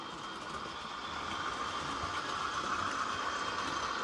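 Three or four model trains running together on an automated layout make a faint, steady whirring rumble with no talk.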